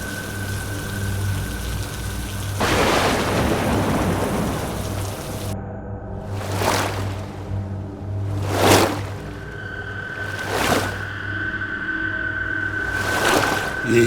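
Heavy rain pours steadily through a stormy night while several deep rolls of thunder boom one after another, loud and close, with no voices.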